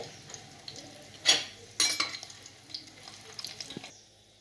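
Quiet background frying of prawn and soya dumplings in oil, punctuated by a couple of sharp clinks and scraping stirs from a utensil against the pan, close by.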